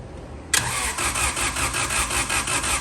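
A car engine fitted with a mechanical fuel pump cranks and fires, catching abruptly and settling into a loud, steady idle with a pulsing rhythm, close to the microphone.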